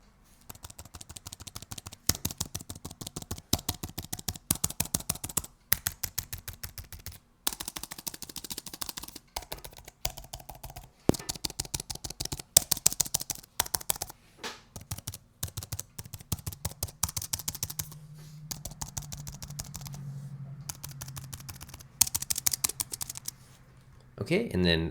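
Sharp clicks of keys pressed close up on a CLVX 1 keyboard come in irregular bursts and single taps, with brief pauses between runs of keystrokes.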